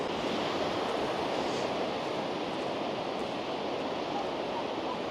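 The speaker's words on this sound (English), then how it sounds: "I never noticed until I'm actually there how loud the sea is." Loud, steady roar of Atlantic Ocean waves at the seaside in Wales, a continuous broadband wash of surf close by with some wind, no speech.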